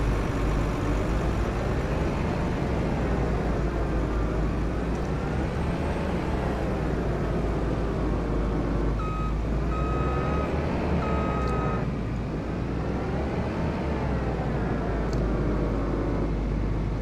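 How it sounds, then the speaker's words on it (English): A Kenworth truck in Farming Simulator 25 rumbles steadily close by as it approaches, its engine drone continuous and loud, with intermittent reversing beeps sounding over it partway through. "There's a Kenworth coming right up my way."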